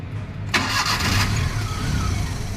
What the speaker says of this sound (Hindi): गाड़ी यूँ की हुई है, देखो चाबी भी अभी तक ऑन ही छोड़ रखी है मैंने। अब करते हैं इसको स्टार्ट